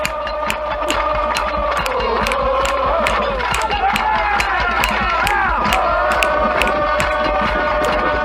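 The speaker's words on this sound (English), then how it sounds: "now a little more of the Woodstock crowd" Large outdoor rock festival crowd at Woodstock, a dense continuous roar of many voices with scattered shouts, clapping and whistles rising and falling across the whole stretch, steady and fairly loud throughout.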